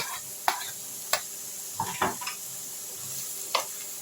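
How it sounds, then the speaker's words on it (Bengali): A spoon stirs grated cauliflower into fried vegetables in a pan, giving several sharp scrapes and clinks against the metal over a low, steady sizzle. "দেখো এটা আমি খুব ভালো করে এবার সবজির সঙ্গে ক্যালিফ্লাওয়ারটাকে মিক্স আপ করে নিচ্ছি।"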